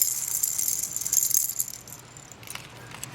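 Small novelty keychains, cactus and alpaca charms among them, jangle and rattle with a bright metallic shimmer for about a second and a half, then fade to a few quiet clinks in a store.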